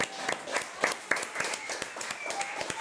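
Scattered clapping from a crowd for the players at a LAN gaming grand final, uneven and moderately close, with a few murmuring voices underneath.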